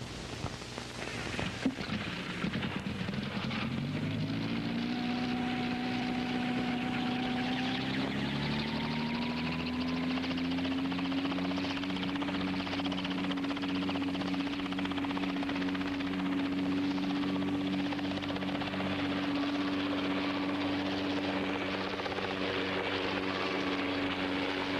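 A Scheutzow Bee light utility helicopter flies nearby, its steady rotor and engine drone rising in pitch over the first few seconds and then holding a loud, continuous whine with no talk.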